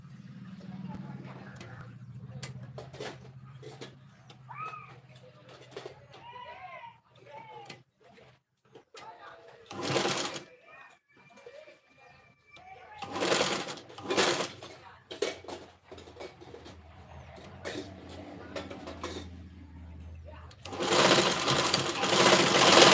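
An electric sewing machine stitches a puff sleeve in short whirring bursts and a longer run near the end, with someone talking between and over the stitching.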